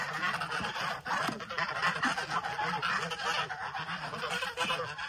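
A flock of geese honks repeatedly at moderate distance, overlapping calls forming a busy, restless chorus, with Pekin ducks in the same farmyard setting.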